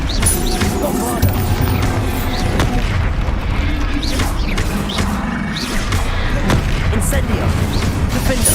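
Bombarda spell explosions in the video game Hogwarts Legacy, repeated loud booms and crashing bursts in quick succession amid other combat effects, with voice lines over the top.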